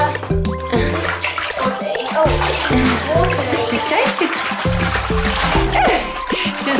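A 10-week-old French bulldog puppy splashes and churns bath water in loud, close, continuous sloshing bursts, with people talking over it throughout.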